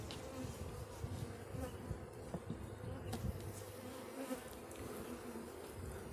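Honey bees swarm over an open hive frame with capped honey and brood, a dense close buzzing drone that holds steadily throughout, with a few soft knocks from handling the frame.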